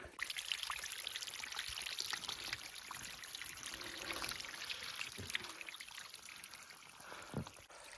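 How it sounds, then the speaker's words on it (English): Steady rushing water from a waterfall and growing streams on a snowy mountain in Bosnia, a continuous even wash that fills the scene with no voices. "We found a waterfall."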